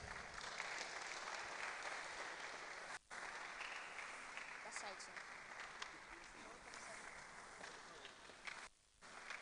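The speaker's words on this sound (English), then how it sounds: "Let's keep clapping, please." A seated audience at a mental health symposium applauds steadily, a dense wash of clapping with brief drops, while a host's voice speaks over it.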